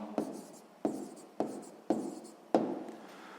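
A pen writes a math answer on paper in five short scratchy bursts spaced about half a second apart, close and quiet.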